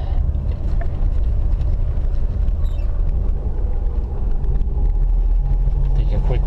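A Chevy II's engine runs steadily, giving a continuous low rumble that stays at an even loudness from start to finish, with faint wind-like outdoor noise mixed in.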